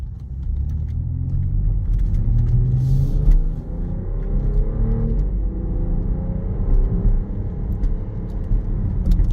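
A 2024 BMW X6 xDrive40i accelerates in sport mode at partial throttle, its engine a steady, close interior rumble with rising pitch sweeps and road noise throughout, and no voices.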